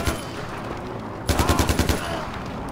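AK rifle in Far Cry 4 firing a quick burst of about seven rapid shots, close and sharp, after a stretch of ambient game noise.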